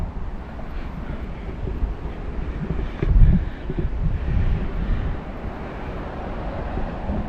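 Steady outdoor wind rumbling and buffeting, with a stronger gust swelling near the middle before settling back to a constant blustery roar.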